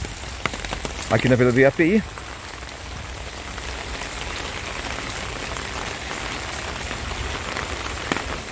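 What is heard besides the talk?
heavy rain falling from roofs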